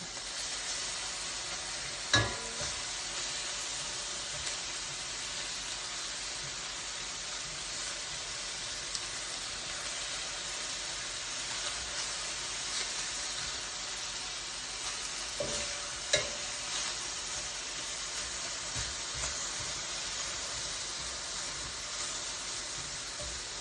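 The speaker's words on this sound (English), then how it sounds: "let's take a look at my steak and do a flip on it" Steak sizzles in an enameled cast iron pan, a soft, steady hiss over about twenty seconds, with a couple of sharp knocks as the meat is flipped and stirred.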